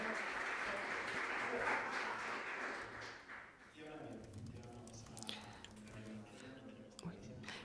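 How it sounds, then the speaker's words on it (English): A burst of audience applause fills the first few seconds, then fades as scattered claps and a murmuring voice take over. "And please, an applause for Margaryta."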